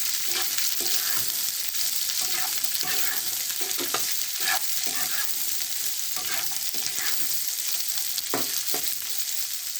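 A pickle of green chili, raw turmeric and amla fries in a pan, giving a steady bright sizzle punctuated by repeated scraping stirs throughout, with no voices.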